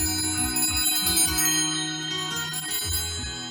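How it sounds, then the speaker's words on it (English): Antique sleigh bells taken from an old Amish cart jingle continuously in a percussion performance, layered over a thumping bass drum and other instruments in a full, loud musical mix. "They're sleigh bells off of an old Amish cart that I found in an antique store"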